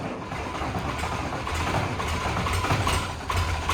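An engine cold-starts at -3 degrees on Christmas, giving a rough, continuous low rumble that stays loud and close throughout.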